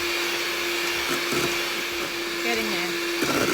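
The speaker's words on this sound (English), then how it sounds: "So we have to whisk these egg whites into hard peaks." An electric mixer whisking egg whites to stiff peaks, a steady close whine running the whole time with a brief pitch dip near the end; a voice speaks briefly over it.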